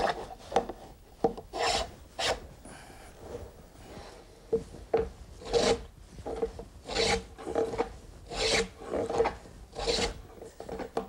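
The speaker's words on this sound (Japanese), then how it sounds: "板をカンナで削り、表面を整えます。" Japanese kanna hand plane shaving a wooden board on a keyaki workbench in traditional Edo sashimono joinery, heard as repeated rasping strokes of varying length and irregular rhythm, close and clear with no talk.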